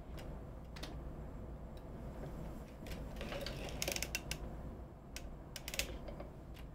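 A circular sock knitting machine being cranked while knitting heel stitches on hand-painted sock yarn gives soft, quiet mechanical ticks and clicks, spaced irregularly, with a few brighter sharp clicks near the middle and end, alone with no talk.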